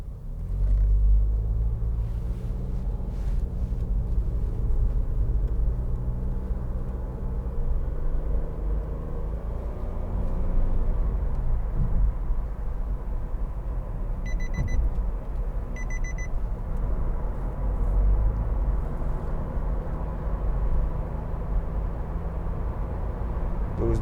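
A 2015 Nissan Note 1.2 DIG-S Tekna with CVT cruising on a motorway gives a continuous low road and engine rumble with steady tyre noise. A couple of brief faint electronic chimes sound partway through.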